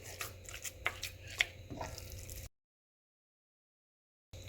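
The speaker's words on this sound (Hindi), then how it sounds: "ऑयल जब गर्म हो जाए तो इसमें चिकन का कीमा डाल दें। इसको इस तरह से ब्रेक करना है।" A spatula breaking up chicken mince as it fries in hot oil in a pan, heard as close, quiet scraping and tapping with a few sharper knocks, ending abruptly in silence before the sound briefly returns.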